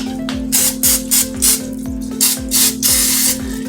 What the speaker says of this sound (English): So let me go ahead and spray this down.